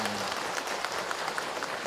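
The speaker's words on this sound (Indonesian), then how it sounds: "Oke, tepuk tangan buat Ayah Hilman." An indoor audience gives a short burst of steady applause, a dense patter of many hands clapping at even loudness.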